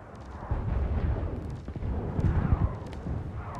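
Dense, rapid gunfire in the video game Saints Row IV rolls on continuously at fairly close range, a heavy booming barrage with sharp cracks mixed in and no talking.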